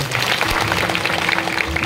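An audience claps together at a devotional kirtan gathering, a dense, steady patter of many hands that continues throughout the short moment with no voices over it.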